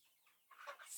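Chickens kept in a pen bedded with sand cluck and scratch as they stay busy, with soft scattered rustling building into brighter, louder clucking toward the end, close by and without talk.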